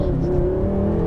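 A 2016 BMW M6 Gran Coupé accelerates hard in first gear, its engine a loud, close, steady rising roar heard from inside the car.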